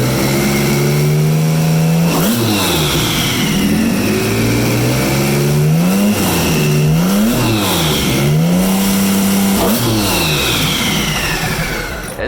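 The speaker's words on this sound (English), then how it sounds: "This is a running engine." A quad-turbo LS V12 engine running on a display stand roars loudly and close, with repeated rev sweeps rising and falling every couple of seconds, alone without talk.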